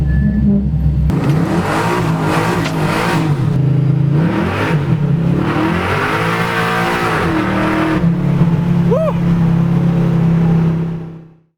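A 1968 Chevrolet C10 pro-touring pickup truck engine revs hard and repeatedly close by, with a loud, deep, rising and falling roar over a rumbling idle that fades out at the end.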